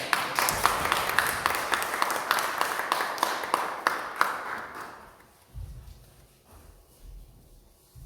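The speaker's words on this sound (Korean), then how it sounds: "저희들 박수로 한번 모시도록 하겠습니다" An audience at a rural church ministers' training event applauds to welcome a speaker, brisk clapping that fades out by the middle, followed by a few soft low thumps and near silence.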